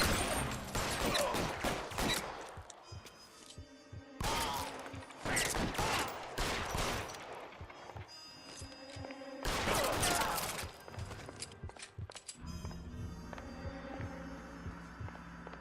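Bursts of gunfire striking the player in L.A. Noire, several heavy volleys of rattling shots separated by short pauses, loud and close, over a low droning hum of game music.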